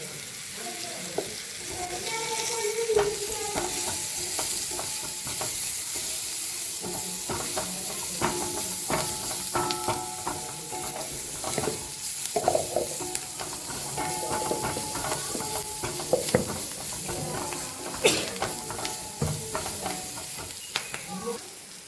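Sliced onions fry in hot oil as turmeric powder is stirred through, a constant sizzle broken by frequent scraping clicks and knocks of the spoon against the pan.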